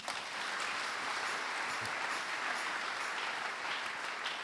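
A church congregation applauding during a worship service: a dense, steady wash of clapping that holds at an even level throughout, with no voices standing out.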